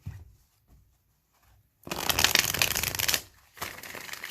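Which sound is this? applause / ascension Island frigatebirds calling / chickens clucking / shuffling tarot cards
shuffling tarot cards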